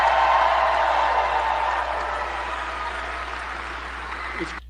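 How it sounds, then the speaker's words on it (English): Applause from a rally audience for the vice president, a dense, fairly distant wash of clapping that slowly fades over several seconds with no voices on top. "how about another round of applause for our great vice president?"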